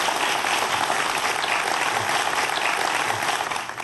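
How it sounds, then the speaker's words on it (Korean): A studio audience applauds steadily after a science lecture on the history of life, dense clapping that holds throughout and tapers slightly at the end. "큰 박수 부탁드립니다"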